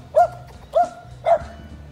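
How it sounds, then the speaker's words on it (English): A dog barks three times at a steady pace, each bark short and fairly close, with quiet outdoor background between them, on a residential street in Belize City. "a dog barking at us"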